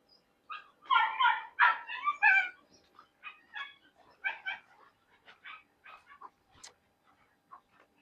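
Several dogs at a kennel in Hyderabad bark and yip in a lively cluster, loudest early on, then shorter scattered yelps and whines trailing off, with no talking.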